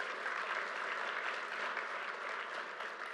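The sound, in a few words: audience applause for the governor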